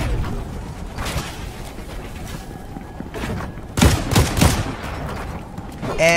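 SMG gunfire in the Fortnite video game near a farmhouse area, with rapid bursts of automatic shots coming and going and a heavier burst near the end.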